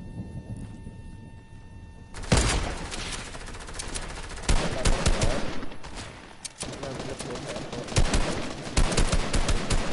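Dense, loud bursts of automatic gunfire from a shooter video game fill most of the stretch, with rapid volleys and sharp individual shots, under faint background voice chatter.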